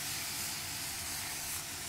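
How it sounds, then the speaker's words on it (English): Mushrooms, including portobello and oyster varieties, sizzle in leftover juices in a pan, giving a steady, close hiss that holds at an even level throughout without pauses or voices. "that sizzle is because of the juices that were left"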